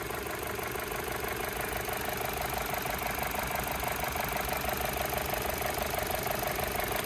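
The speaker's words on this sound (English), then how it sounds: "very nice and smooth running engine, nice and quiet, no odd noises or vibrations" A 2014 Chevrolet Cruze LS engine idles steadily, heard close up from the engine compartment as an even, continuous mechanical hum with a fine rhythmic ticking and no talking.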